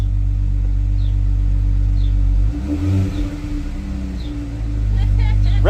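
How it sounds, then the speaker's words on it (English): A Jeep Wrangler with an aftermarket axle-back exhaust idles with a deep rumble, then revs up and down through the pipes before settling back to a loud idle, with people talking over it. "Give her some revs."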